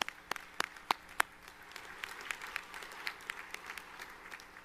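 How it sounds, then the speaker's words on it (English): An audience at a spring commencement ceremony applauds graduating students, with a few sharp early claps swelling into a steady, moderately distant wash of clapping. "Let's give them a round of applause."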